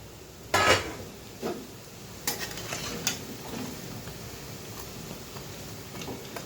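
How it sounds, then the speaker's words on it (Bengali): A metal lid is lifted off a pot of vegetarian stuffed kakrol (spiny gourd) cooking on the stove, giving a sharp clatter followed by a few lighter knocks over a faint, steady sizzle. "ঢাকনাটা উঠিয়ে দিই আবার।"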